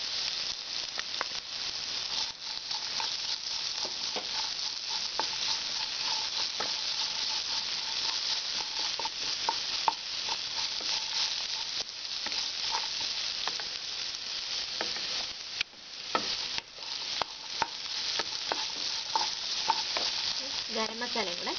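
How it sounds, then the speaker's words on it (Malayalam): Vegetables for Kerala-style vegetable fried rice sauté in a pan, with a steady close sizzle and hiss and intermittent scraping of stirring throughout. "നമ്മുടെ വെജിറ്റബിൾസ് എല്ലാം നന്നായിട്ട് വഴണ്ട് വന്നിട്ടുണ്ട്."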